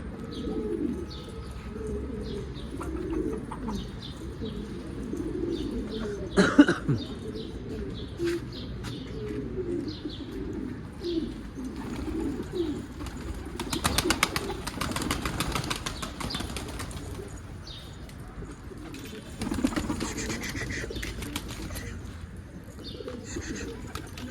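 A trapped pigeon coos softly now and then amid faint flapping and rustling, with a few sharp knocks and scrapes in a quiet space.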